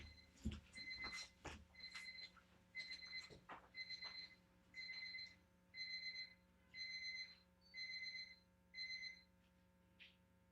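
A kitchen baking timer alarm rings in repeated electronic beep bursts, about nine evenly spaced pulses, steady and moderately loud, with a few knocks and handling sounds at the start.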